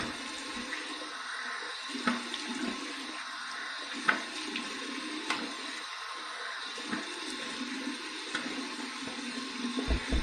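Warm water runs steadily from a tap into a sink during a rinse while shaving, a constant moderate rush with small splashes and clicks, near and alone.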